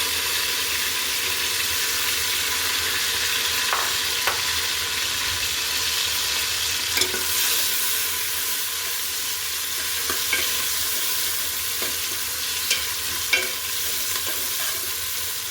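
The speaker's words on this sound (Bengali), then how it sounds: "পেঁয়াজটা একটু হালকা ব্রাউন হলেই কিন্তু আমি অন্য মশলাগুলো অ্যাড করে দিব" Chopped onions fry steadily in hot oil until light brown, with a dense, even sizzle throughout, a few faint scrapes and ticks from stirring, and no voices.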